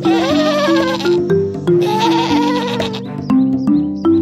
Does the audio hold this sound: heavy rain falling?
no